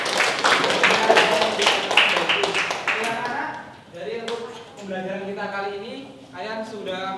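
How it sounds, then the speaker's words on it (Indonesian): Classroom applause for classmates, with a dense burst of many hands clapping at once, loud and close, giving way to a teacher's voice. "Tepuk tangan dulu dong buat kita semua."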